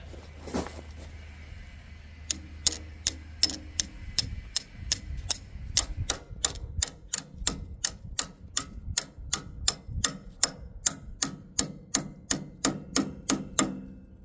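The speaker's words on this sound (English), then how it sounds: "we'll give it some hits with a hammer on this end" Sharp metallic hammer taps at a steady rhythm, about thirty of them, ringing close against a grease fitting cleaning tool used to unclog grease zerks, with faint background noise.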